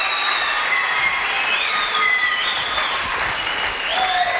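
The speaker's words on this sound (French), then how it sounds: "Applaudissements pour Muriel, s'il vous plaît, mesdames, messieurs" A large studio audience at a French TV show claps steadily, a dense wash of applause filling the whole stretch with a few whistles riding on top.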